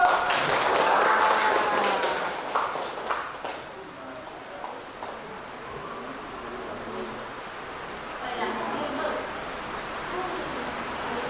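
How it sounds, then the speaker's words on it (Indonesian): A school class claps hands in unison for a few seconds, close and brisk, then fades into room noise with the teacher talking over it. "Oke, tepuk tangan dulu."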